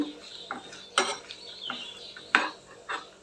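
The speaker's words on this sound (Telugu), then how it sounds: "బాదం పప్పు అంతా వేయించేసుకుందామని చెప్పి వేయించుకొని అందులోకి వేసుకుంటాను సెకండ్ ఒక సెకండ్ ఇలా వేయించుకుంటున్నాను" Almonds dry roasting in a pan as a spoon stirs them, giving bright scraping clinks and rattles at irregular intervals over a faint background; no talking.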